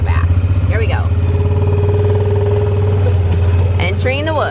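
A side-by-side utility vehicle loaded with maple sap drives into the woods, its engine a steady loud close-up rumble, with people talking over it.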